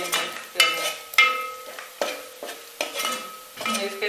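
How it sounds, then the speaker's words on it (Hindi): Ginger frying in hot ghee for dhaba-style mixed dal, quick repeated stirring strokes with sharp metallic scrapes over a crackling sizzle, close and rhythmic, about eight strokes. "घी हमारा पहले से गर्म हुआ होता है तो उसमें जल्दी जल्दी मिक्स करें"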